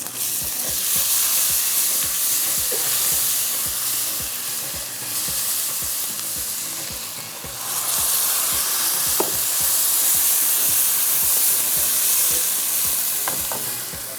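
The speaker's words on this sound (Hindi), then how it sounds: "प्याज ब्राउन हुआ, इसके बाद ये हम डाल देते हैं अदरक लहसुन।" Ginger and garlic fry with browned onions in a pan, a loud continuous sizzle broken by regular scraping strokes of a stirring spoon, close and steady with no talking.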